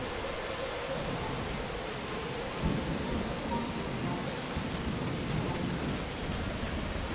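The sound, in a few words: thunderstorm in a video game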